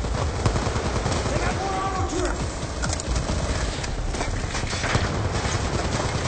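Rapid bursts of rifle fire from an AK-47-style weapon in the Call of Duty: Black Ops 2 campaign keep up a dense, continuous crackle while someone talks over the gameplay.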